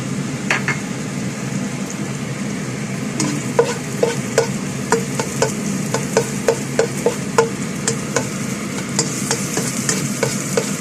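Garlic frying in a small amount of oil in a pan, a steady soft sizzle under repeated crisp clinks and scrapes of a utensil stirring against the metal, fairly close.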